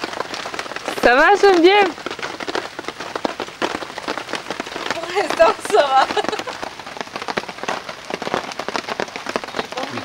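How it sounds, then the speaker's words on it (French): Steady rain patters on a tarp over a sea kayaking camp in New Caledonia, a constant dense crackle of drops heard close, while people briefly talk over it. "Il pleut."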